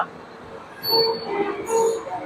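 A train rumbles past with steady mechanical noise and high metallic wheel squeals rising and fading, heard from fairly close.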